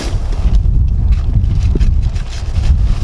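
Steady, heavy wind in wet outdoor conditions buffets the microphone with a low, rumbling roar and gusty fluctuations, close and continuous.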